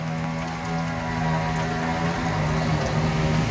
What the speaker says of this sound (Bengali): ওই যে বৃষ্টি চলে এসেছে